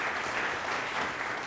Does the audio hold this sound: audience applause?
yes